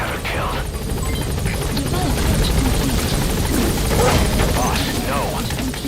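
The extraction helicopter in Metal Gear Solid V: The Phantom Pain roars close and loud with a steady, droning rotor thump. Voices speak over the engine throughout.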